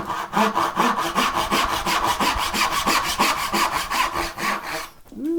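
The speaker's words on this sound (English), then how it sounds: "The dovetail saw is getting a little dull." A dovetail saw, slightly dull, cuts a wooden half-blind dovetail by hand, making steady rhythmic back-and-forth rasping strokes, close and loud, about four strokes a second, ending with a brief scrape.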